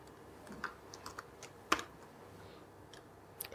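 Scattered keystrokes on an American computer keyboard, a few soft taps and one sharp louder click mid-way, close and quiet with no voices.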